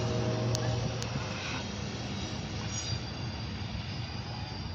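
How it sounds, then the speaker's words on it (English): A long train rolls steadily past with a continuous broad rumble and low hum that holds level throughout, a couple of faint clicks riding over it. "Wow, that's a long train."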